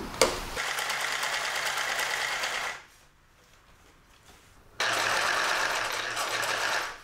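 A sewing machine stitches a witch costume cloak in two loud bursts of rapid mechanical whirring, separated by a two-second pause of near silence before the motor starts again.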